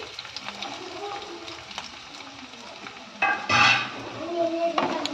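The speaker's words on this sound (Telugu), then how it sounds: "ఈ ఆనియన్ని వేసుకోవాలి ఆయిల్లోకి" Chopped onions tipped into hot oil in a pan for rajma curry make a short clattering, rushing burst partway through, under and between a voice talking over faint kitchen noise.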